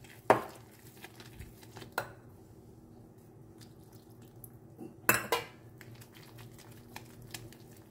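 A spoon stirs semolina cake batter in a bowl as milk is added a little at a time, giving a few sharp clinks against the bowl over soft wet mixing and dripping; no talking.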